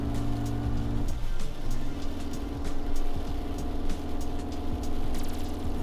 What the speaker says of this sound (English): This is the acceleration. Really struggling to get up this bank.